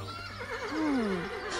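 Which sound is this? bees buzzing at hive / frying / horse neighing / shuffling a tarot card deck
horse neighing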